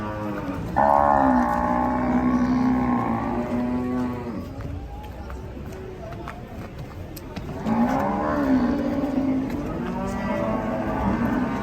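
An unruly cow that has been loaded onto a truck and keeps backing out lets out two long, loud, close moos. The calls are separated by a few seconds of quieter background noise.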